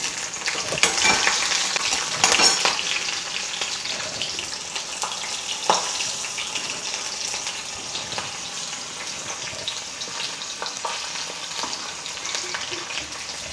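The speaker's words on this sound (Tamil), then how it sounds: "ஒரு பச்சை மிளகா சின்னதாக நறுக்கினது இதில் போட்டு பொரிக்கணும்." Small chopped green chili and dal fry in hot oil in a kadai for vendakkai puli kuzhambu, giving a steady, close sizzle with occasional sharp crackles and stirring clicks and no voices.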